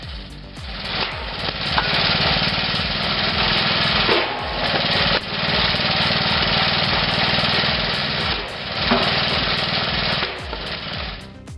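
A homemade det wheel wood splitter's gas engine runs loud and steady for the whole stretch, with a rough, chugging low-end pulse and brief dips in intensity.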